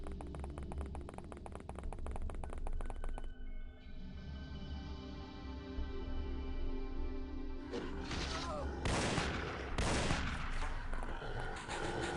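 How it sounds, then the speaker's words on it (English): Heavy assault cannon shots in the X-Com Files game, booming bursts ringing out loud and close over a dense, rumbling battle backdrop with scattered impacts. "I'm surprised it took 2 assault cannon shots"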